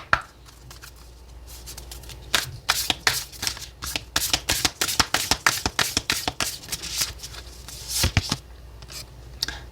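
Oracle cards being shuffled by hand for a weekly tarot reading, a quick run of crisp flicking riffles after a brief quiet start, close and loud, with no voices.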